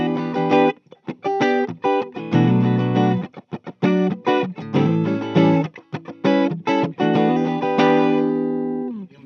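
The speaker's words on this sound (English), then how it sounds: "the neck pickup position on your switch is actually the neck pickup and the middle pickup on." An electric guitar, a Palermo Tommy Henriksen signature ES 335-style model on neck and middle pickups, plays a run of plucked notes and chords with a clean, slightly glassy tone, ringing out with short gaps between phrases.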